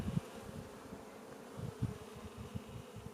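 Honey bees cluster inside a weak hive during an inspection, a low, faint buzzing hum that swells in short pulses, heard alone without talk.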